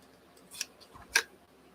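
Scissors snip through fabric for an art quilt, two short, crisp cuts about half a second apart, close and clear against a quiet room.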